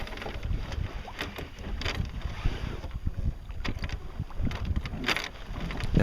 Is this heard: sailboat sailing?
yes